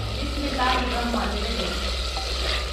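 Minced keema fries and is stirred in a pan, making a continuous close sizzle with scraping under faint background voices and tonal sounds.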